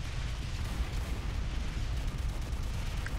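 Rockets fired over and over in a chaotic boss fight in a video game, a dense, continuous barrage of booming low-end blasts with no pauses, loud and close throughout.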